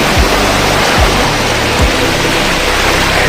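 Floodwater from unseasonal rain rushing through a village stream, a loud, continuous broadband roar of moving water with a few low thumps, and no voices.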